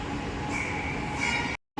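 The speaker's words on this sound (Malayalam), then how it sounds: "മെട്രോ വന്നിരിക്കുകയാണ്." A metro train arriving at Chennai's Alandur station rumbles and screeches on its rails, a sustained high squeal over the rolling noise, cutting off abruptly near the end.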